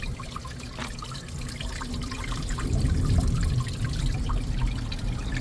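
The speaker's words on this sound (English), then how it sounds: "the more you open as anti-clockwise, the more water will flow" Water trickles and splashes through the opened valve of a vertical hydroponic growing system, a close, steady flow that swells louder midway through.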